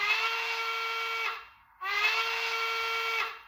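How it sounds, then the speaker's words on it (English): Two sustained steam whistle blasts from a Bachmann Spectrum 2-6-6-2 model locomotive's SoundTraxx Tsunami 2 decoder, sounding from the tender, each over a second long, clear and steady with a short gap between. "So this is the whistle that I threw on there."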